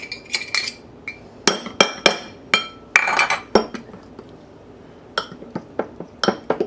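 Honey mustard chicken ingredients being mixed together in a bowl, a utensil giving sharp, irregular clinks against the dish in quick clusters separated by short pauses, close and clear with no talking.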